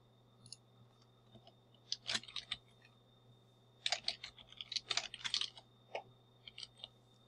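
Typing on a computer keyboard while entering a trigonometry function, heard as close, irregular bursts of light key clicks with short pauses between flurries.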